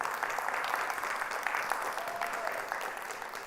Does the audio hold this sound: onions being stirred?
no